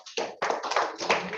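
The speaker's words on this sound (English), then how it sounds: "Clap for him, everyone." A class of students claps for a classmate in a classroom, a short burst of quick, close hand claps with brief uneven pauses.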